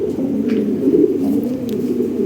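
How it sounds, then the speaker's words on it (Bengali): Toy Lahori pigeons coo in a steady, low, throaty rumble that runs without a break, close and fairly loud, with no voices over it. "অনেক সুন্দর সুন্দর কবুতর আছে"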